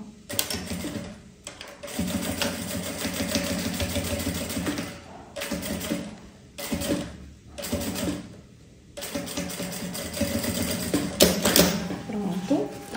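A sewing machine stitches backpack lining in repeated bursts of rapid whirring needle clatter separated by short pauses, close and fairly quiet, with someone talking between runs.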